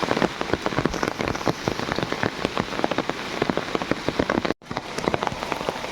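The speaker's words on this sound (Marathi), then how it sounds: "पाऊस आला आहे भिजायला होतंय" Steady rain patters on a surface outdoors beside water during fishing in Konkan, a dense continuous hiss of drops with one brief dropout near the end.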